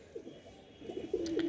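A round-tailed neeldum pigeon giving a short, soft cooing phrase nearby, faint at first then swelling into a brief throaty coo.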